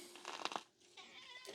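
A nervous ranch cat meows a few times in short, fairly faint calls, followed by a brief pause and a softer trailing cry.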